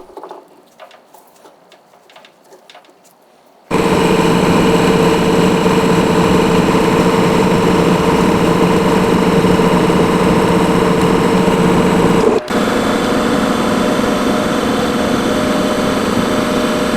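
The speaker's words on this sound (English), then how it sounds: "flip the handle around in the lathe so that I can machine and thread the other end of it" After a quiet start with light handling noises, a metal lathe starts up with a loud, steady whirring hum while machining the end of a sword handle, briefly dipping once before carrying on evenly.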